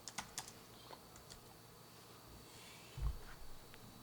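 Computer keyboard typing with dying batteries: a few soft, quick key clicks at the start, then a low steady room hiss and a faint muffled thump or two near the end, all fairly quiet.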